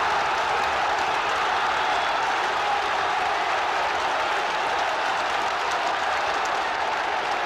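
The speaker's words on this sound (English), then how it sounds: "The Rangers crowd going absolutely mad." A football crowd at a 1971 Rangers versus Celtic match roars after a goal, a dense, loud and unbroken wash of cheering that keeps going with no letup.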